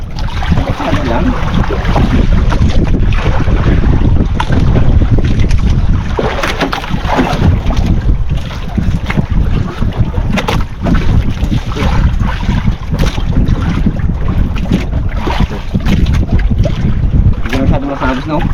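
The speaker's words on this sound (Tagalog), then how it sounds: "Pabago-bago kasi ang hangin eh" Strong wind buffets the microphone continuously out on open water from a small fishing boat, a loud broadband roar with gusty swells throughout and no clear speech.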